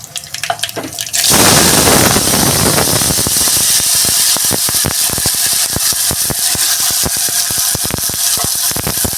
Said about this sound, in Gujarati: રીતે દૂધીને ધોઈને ઝીડી સમાર દેવાની